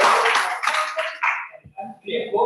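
Audience in a conference hall at a medical CME event gives the staff a burst of clapping, dense and loud at first, then thinning out as a voice begins speaking.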